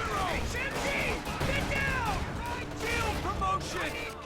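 Machine gun fire rattles through a battle in a Company of Heroes-style strategy game, with dense gunfire and explosions blending under continuous commentary from a caster.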